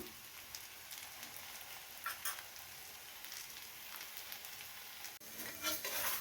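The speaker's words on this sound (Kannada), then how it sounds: "ಉರಿ ಜಾಸ್ತಿ ಇಟ್ಟು ಬೇಯಿಸ ಬೇಯಿಸ್ತಾ ಇದ್ದೀನಿ ಸ್ವಲ್ಪ ಎಣ್ಣೆ ಹಾಕ್ತಾಯಿದ್ದೀನಿ" Akki rotti, a rice flatbread, cooking in a little oil on a pan over high flame, giving a steady, close crackling sizzle that swells slightly toward the end.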